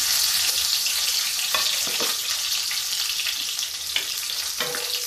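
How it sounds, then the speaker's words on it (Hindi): Chopped parwal (pointed gourd) frying in a pan, a steady loud sizzle throughout with a few soft stirring scrapes breaking through, no voices. "और इसको ऐसे ही फ्राई कर लेते हैं।"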